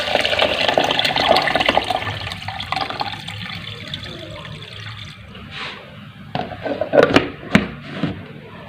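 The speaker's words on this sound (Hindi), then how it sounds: "और 4 गिलास के करीब हम इसमें पानी डाल देंगे।" Water pours and splashes into a jug with sugar and peaches for peach juice, a loud gushing stream that fades over several seconds, followed by a few short splashes and clinks.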